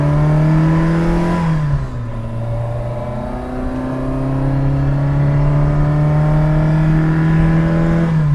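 A 1979 Fiat 127 Sport's engine revs up hard through the gears, rising in pitch, a brief dip at a shift, then climbing steadily and loudly.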